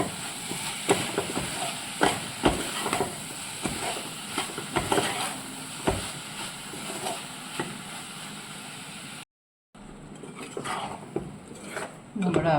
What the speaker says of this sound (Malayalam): നന്നായിട്ട് തന്നെ ഇളക്കിയെടുക്കണം.